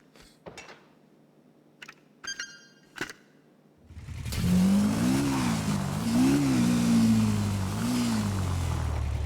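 A motorbike in the GTA RP video game starts up after a few short clicks and thuds, then its engine revs loudly and steadily with rising and falling pitch, close and dominant for the rest of the moment.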